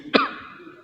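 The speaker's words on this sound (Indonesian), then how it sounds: "Batuk" A single sharp cough from a man giving a religious lesson in a mosque, close to the microphone, followed by a short fading tail and near silence.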